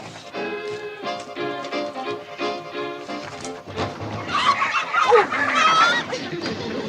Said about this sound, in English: We'll have to ride with a carload of chickens.